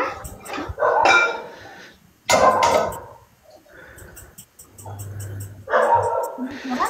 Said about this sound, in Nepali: कति भुग्यायो कुकुर